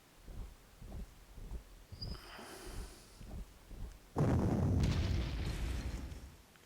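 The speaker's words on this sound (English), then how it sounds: "That artillery hurt." Artillery fire in the wartime strategy game Panzer Corps: a run of dull, evenly spaced thumps, then a heavy booming blast with a long rumbling tail, fairly loud.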